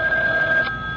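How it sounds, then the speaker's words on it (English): A telephone rings in a radio drama, a steady electronic tone sounding briefly and then fading out near the end. "Your phone is ringing."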